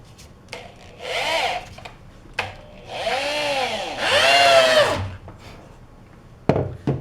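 A cordless drill drives screws into 2x4 lumber for a trebuchet frame, with several rising whirring bursts of a few seconds each, close up, separated by clicks and short handling noises.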